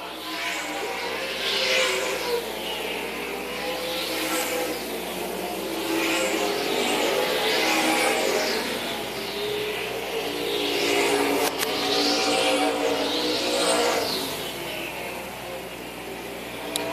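Grand National Super Series race cars circle Tri-County Speedway, engines rising and falling in repeated revving sweeps as they pass at a moderate distance, a steady loud roar throughout with no talk.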